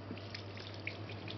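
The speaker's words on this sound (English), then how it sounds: "Jet of water," A bottle rinser shoots a jet of no-rinse sanitiser water into a home-brew beer bottle, giving a short, faint, steady hiss of spraying liquid with a few small drips.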